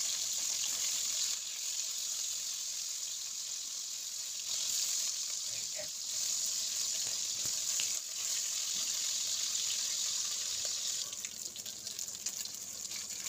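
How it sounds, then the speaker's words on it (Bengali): Bhetki fish bones fry in hot oil with a steady, loud sizzle and crackle that continues without a break, with occasional small pops and kitchen clatter. "যেহেতু মাছের কাঁটাটা অনেকটা ছিল তাই আমি দুবারে ভাজবো।"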